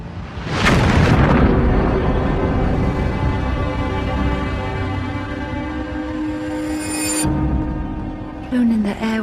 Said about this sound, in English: It isn't long before an explosion destroys Darnley's bedroom